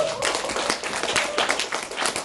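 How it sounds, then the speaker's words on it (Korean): An audience at a business presentation applauds, a dense and steady wash of many hands clapping together that carries on for a couple of seconds. "박수 한번 보내주세요."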